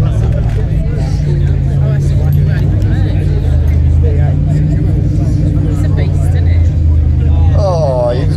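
A motor trike arrives at the Bullfrog Bash 2021 bike rally, its steady low engine drone running throughout amid crowd chatter and nearby talk.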